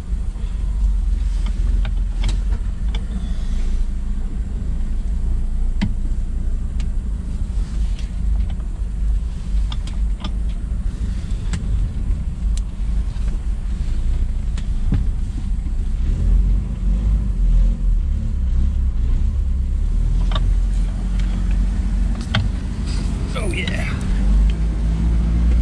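Stock 1979 Ford Mustang coupe with the 2.3L four-cylinder, heard from inside on a drive: a steady low engine and road rumble runs throughout, loud and close, with faint rattles on top.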